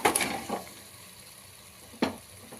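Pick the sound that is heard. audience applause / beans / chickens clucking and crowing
beans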